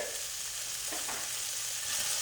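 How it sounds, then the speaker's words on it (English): Chicken and vegetables stir-fried for lo mein in a hot frying pan, a steady close sizzle with a few soft scraping stirs, no talking. "So now we're gonna stir this vegetable combined with this chicken nicely hot."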